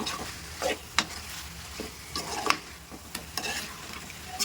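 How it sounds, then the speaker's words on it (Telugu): Chicken pieces fry with coriander and mint over high heat in a pan, with soft sizzling broken by repeated scraping stir strokes at an irregular rhythm, close by and fairly quiet. "వీటిని కూడా కలుపుతూ ఒక 5 మినిట్స్ ఫ్రై చేద్దాం."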